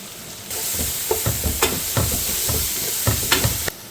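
Masala hitting hot oil with tomatoes and capsicum in a frying pan, a steady sizzle punctuated by repeated scraping stirs, close and loud, no voices.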